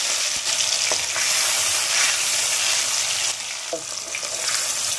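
Tomato hitting hot oil in a pan, a loud steady sizzle and crackle filling the whole stretch, with a few faint clinks as it settles, no voices.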